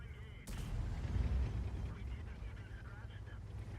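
A single tank cannon shot in World of Tanks, a sharp loud report followed by a rumbling low tail, with a voice talking in the background.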